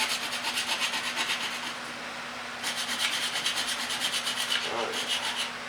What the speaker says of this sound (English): Use a screwdriver to scrape some of this rust.